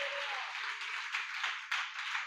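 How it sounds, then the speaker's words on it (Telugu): Audience applause fills a Telugu Christian sermon hall in Perecharla, Guntur, a steady, fairly quiet wash of many hands clapping throughout with small surges, and no talking over it. "చప్పట్లు కొట్టండి గట్టిగా"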